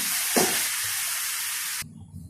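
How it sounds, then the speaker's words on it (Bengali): Dal being sautéed in a hot pan while making muri ghonto gives a loud, steady broadband sizzle with a brief stir burst early on, cutting off abruptly near the end to low background noise. "ডালটা এখন আমি কষিয়ে নেব"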